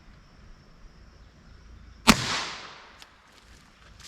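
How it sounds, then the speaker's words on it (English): A .22 LR rifle fires one CCI Mini Mag 36-grain hollow point round, a single sharp crack with a brief decaying tail, set against quiet surroundings. "I'm gonna do 2 shots, go up, take a look, and then do 2 more shots"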